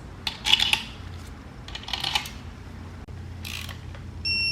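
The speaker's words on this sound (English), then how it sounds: "Torquing them down" A torque wrench tightens bolts on a 1.5JZ engine build, giving a few short bursts of close metallic ratcheting clicks separated by pauses, with a quiet low background hum.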